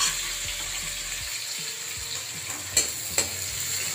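Onion and green chili frying in a pan, a constant crisp sizzle punctuated by soft stirring knocks and two sharp utensil clinks near the end.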